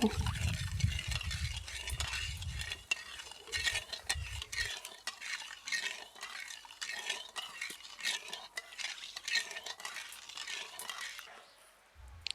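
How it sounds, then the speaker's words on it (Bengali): Sugar, water and cracked cardamom pods stirred in a pot to melt the sugar produce soft, uneven scraping and light clinks of the spoon against the pot, after a low rumble at the start, close and moderately quiet. "নাড়াচাড়া করে চিনিটাকে শুধু গলিয়ে নেব"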